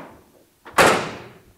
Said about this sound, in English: Simple operation on the tailgate, just up and down.